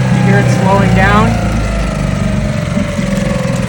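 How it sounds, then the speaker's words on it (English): An engine running at high revs with the throttle set too high is eased down to a slow idle, the steady mechanical drone dropping in pitch, while someone talks over it. "if I can throttle down to slow, you hear it slowing down"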